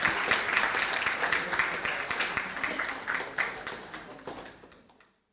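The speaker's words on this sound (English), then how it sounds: "another round of applause for the book launching" An audience applauds at a book launch on the Jokowi presidency, a dense roomful of clapping that holds steady for about four seconds, then thins out and fades to silence at the end.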